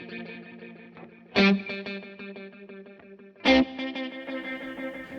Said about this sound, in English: So we've got like a Cosmos echo, which is a really kind of intense delay, a little bit of a pitch vibrato, and a Hall reverb